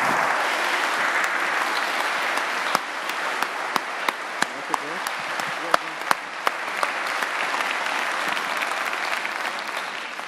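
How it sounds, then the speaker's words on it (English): Full-room audience applause at a lecture event for a Forum for Democracy co-founder, a thick continuous roar of clapping lasting the whole stretch, with a few sharp individual claps punching out near the front. "Give him a big hand."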